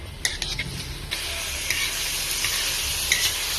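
Shrimp sizzling and being stirred in a frying pan, a steady close hiss with a few sharp scraping clicks from the stirring utensil throughout.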